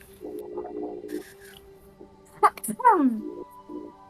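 A single sharp sneeze bursts out in the middle, with talking before and after it.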